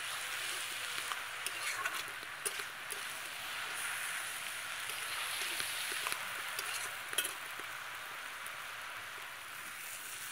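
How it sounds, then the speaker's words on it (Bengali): Cabbage frying slowly in a pan on low heat, giving a steady hissing sizzle like light rain, with occasional soft scrapes and knocks as it is stirred. "আস্তে আস্তে নেড়ে নিতে হবে, খুব বেশি জাল দিলে বাঁধাকপিটা লেগে যাবে।"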